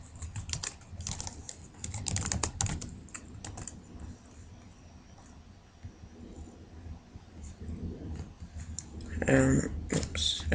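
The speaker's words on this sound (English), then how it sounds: "let's just type" Computer keyboard typing, with bursts of key clicks in uneven runs near the start and again late, with a quieter stretch between, close and moderately loud in an indoor setting.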